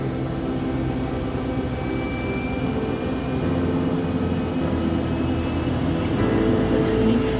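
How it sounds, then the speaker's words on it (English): Airliner accelerating down the runway for takeoff, a loud, steady roar of engines and rumble heard from inside the cabin, building slightly toward the end. "We're just picking up speed so the plane can get off the ground"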